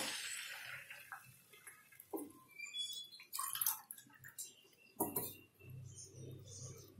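Water pours and splashes in a steady stream into a cooking pan with semolina for rava upma, with irregular drips and clinks, close by, with no voices.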